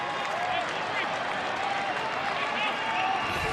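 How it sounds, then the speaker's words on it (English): Steady applause from a large stadium crowd at a football match fills the space evenly, a continuous wash of clapping and cheering heard from a distance. "This is the applause Goodwin is getting as he walks around the pi"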